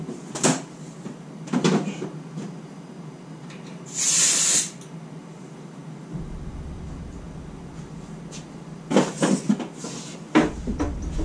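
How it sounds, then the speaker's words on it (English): Compressed air bursts from an air hose in a garage during a Jeep TJ engine mount repair, one loud hiss standing out among clunks and knocks, with no voices. "Bring the air hose back in."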